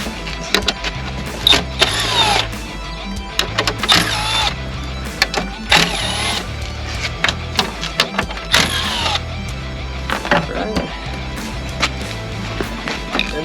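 A power tool whirs in repeated short bursts as 5.5mm bolts are removed from a Ford F250 grille, close and loud, with brief pauses between runs.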